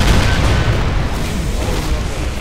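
A pyro cannon firing in Doom co-op play, a sustained loud wash of blasts and booms, heavy and continuous with no clear gaps.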